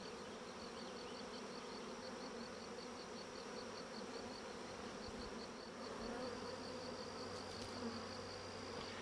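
A dense, steady buzzing of a honey bee swarm, continuous and fairly distant, with no voices.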